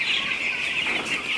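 Broiler chickens in a poultry farm make a dense, continuous chorus of high cheeping and clucking at close range, with no talking.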